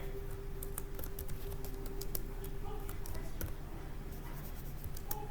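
Typing on a computer keyboard during a spreadsheet lesson on ticket price formulas, with scattered light key clicks in an uneven rhythm over a quiet room hum.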